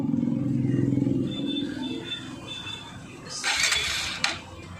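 A TVS Apache RTR 160 4V motorcycle with a slow-speed problem cranks and fires up. There is steady low rumbling, then a sharp burst of clatter near the end, heard close with no clear talk.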